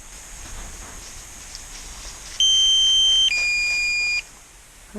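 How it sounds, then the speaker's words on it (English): A DJI Flip drone's remote controller sounds a low battery warning as a short run of steady electronic tones, loud and close, over faint outdoor rustle and wind. "it's beeping at me now, so it's saying, look, come home, because you're low on battery"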